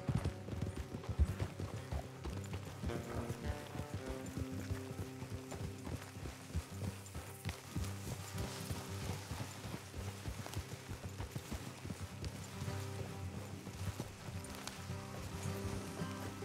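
Steady clip-clop of horse hooves, several animals trotting together at a constant rhythm, with creaking gear underneath and a faint whinny, from the video game Red Dead Redemption 2.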